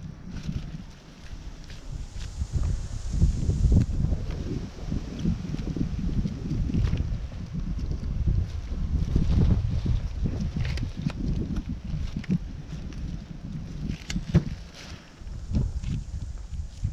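Wind gusts at a camp, producing a continuous low, rumbling buffet across the microphone that swells and eases throughout, with scattered rustles and knocks.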